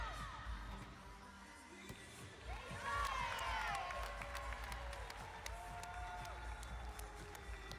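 Rowdy crowd cheering and applauding at a women's college gymnastics meet, a steady roar of voices with whistles and shouts that swells around the middle and stays loud throughout.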